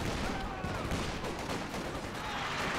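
Rocket artillery pounds away in a 3v3 match of the video game Company of Heroes 2, a loud, dense, unbroken barrage of overlapping blasts and crackling fire with no pauses.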